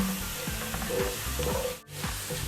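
Garlic frying in a pan until light brown, a steady close sizzle of hot oil with soft stirring scrapes recurring throughout and a brief dip near the end.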